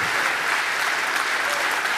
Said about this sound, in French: Non, c'est vous qu'on applaudit, Monsieur Apathy.